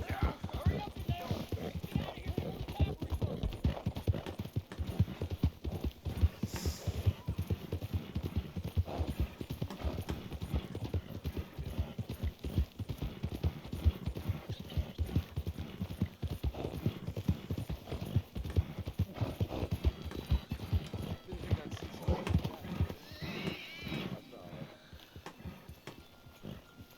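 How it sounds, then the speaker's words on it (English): Steady horse hooves clip-clopping in Red Dead Redemption 2, a continuous rhythmic trot under game ambience, with faint talk and an occasional snort or whinny. "Vamos a dejar el caballo aquí."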